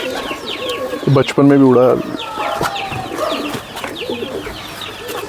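Pigeons coo in a loft. One loud, close burst of warbling coos stands out, and softer coos and rustles come before and after. Someone speaks briefly.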